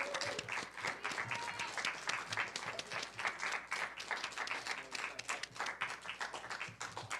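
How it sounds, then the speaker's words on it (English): An audience applauds poets at a Black theatre community event, a dense, even wash of clapping from many hands held at a moderate distance and fairly quiet, with no talking over it. "so we can give them one more round of applause and thank them for the amazing poetry and oratorical"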